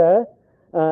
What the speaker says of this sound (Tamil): எக்கோ அடிக்குதுங்க இங்கே வருங்க நான் பேச பேச